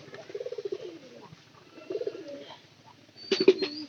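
A pigeon coos nearby in two rolling, pulsing phrases while being soaked neck-deep in a tub of water, followed by a sharp burst of movement near the end.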